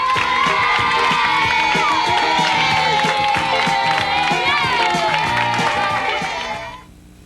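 A children's studio audience on a TV math game show cheers loudly with whoops, shouts and scattered clapping, a dense continuous roar that holds steady before fading out at the end.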